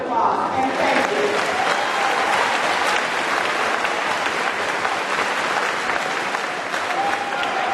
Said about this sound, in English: Let's give everybody a round of applause and thank you.